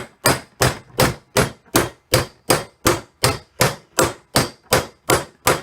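Steady hammer blows driving a wheel bearing into place, about thirteen sharp, evenly spaced strikes at a brisk rhythm, close and loud with no talking.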